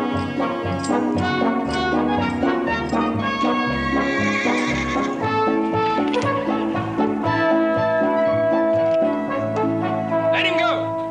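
A wild horse being broken neighs and whinnies loudly again and again, with hooves clip-clopping underneath and people talking and shouting over a dense, busy scene.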